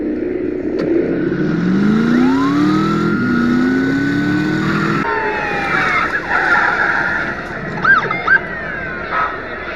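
Loud engine roar and rising, falling whine of a car chase in the film Drive, with a police car racing through an intersection, tires skidding and a siren-like wail sweeping up and down.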